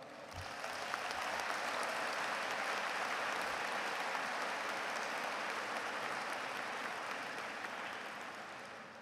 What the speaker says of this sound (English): Can we give the mothers here and the grandmothers here a round of applause?